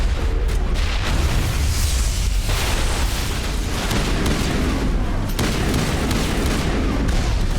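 Grenade blasts in Mass Effect ring out in a loud, dense barrage. Deep booms roll on without pause and bury other detail, and a near voice is barely present under the combat.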